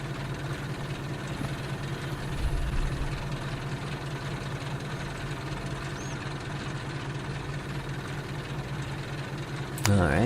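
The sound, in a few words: vehicle engine idling in video game Farming Simulator 22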